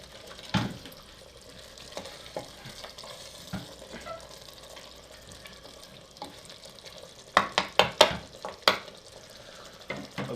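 A spoon stirs Afghani-style aloo gosht in a handi, with soft scraping and a faint sizzle broken by scattered metallic clinks, then a quick cluster of louder knocks against the pot near the end.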